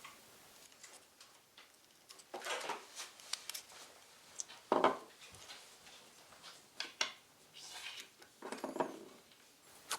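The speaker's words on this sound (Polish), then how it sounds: "Teraz śrubokrętem podważamy starą baterię." A screwdriver pries an old coin battery out of an opened Toyota key fob. Faint, close ticks, scrapes and small metallic clicks come in scattered clusters in a quiet room, with no talking.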